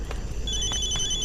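A telephone rings with a bright electronic tone that sets in partway through and holds steadily over a low background murmur.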